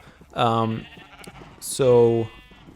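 Two distinct bleats from a sheep in the Minecraft video game, each a short wavering nasal call, loud and close, separated by a brief pause.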